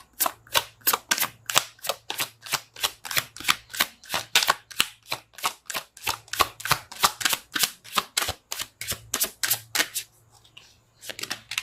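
Tarot cards being shuffled by hand, a long run of rapid crisp riffling snaps in quick rhythmic bursts, close and clear, briefly pausing near the end before resuming, with no talk.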